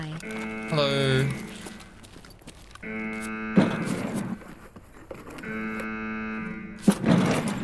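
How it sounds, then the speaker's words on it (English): An alarm in the Escape From Tarkov video game drones as two long, loud, steady blaring tones with a pause between them, while a voice talks over the top. "Why is the alarm so loud?"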